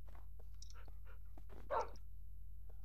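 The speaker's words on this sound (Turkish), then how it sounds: "Vay köpekler vay kemik de yok ki vereyim seni ne yapayım?" Dogs in Minecraft give a string of short, moderately loud barks and yips over a steady low background hum, spaced irregularly across a few seconds with no talking.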